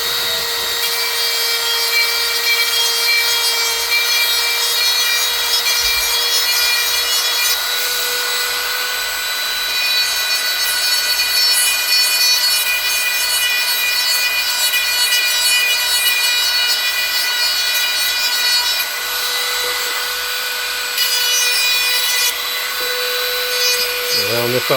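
A rotary Dremel-type tool sands and rounds off the top edge of a kydex sheath, giving a steady high-pitched whine with continuous grinding and rubbing that runs loud and close for the whole stretch, with brief shifts in pitch.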